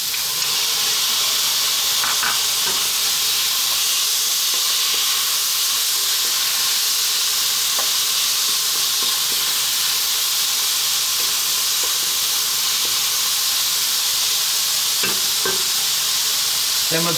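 Broccoli and tuna stir-fry in a pan over lively heat, giving a loud, steady sizzling hiss throughout with occasional faint clinks of stirring.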